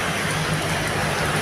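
Heavy rain pours down around someone walking with a small umbrella, a dense, loud, unbroken hiss of falling water drumming close by.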